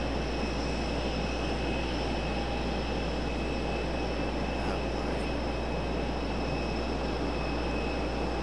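A jet airliner departing Raleigh Durham International Airport at night, heard as a steady, continuous engine roar with a broad rushing hiss and a persistent high whine, constant in loudness throughout.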